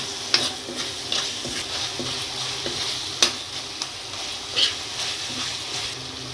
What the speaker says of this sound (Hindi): मसाले के साथ इसको भून रही जब तक टमाटर सॉफ्ट नहीं हो जाए।